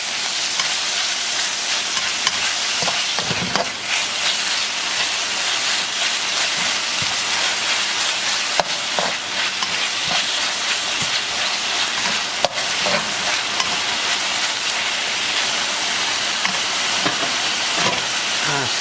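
Beef fried rice with sesame oil stir-fries in a hot pan, giving a loud, continuous sizzle and hiss with a few sharp clatters from the utensil against the pan.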